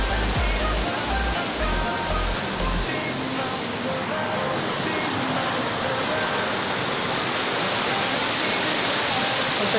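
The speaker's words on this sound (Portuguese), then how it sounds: "Nós chegamos na sexta cachoeira. E na frente tem uma queda bem alta." A high waterfall on a trail near Cubatão roars as a loud, constant broadband rush of falling water. Low thumps from handling or wind occur in the first few seconds, and no voices are heard.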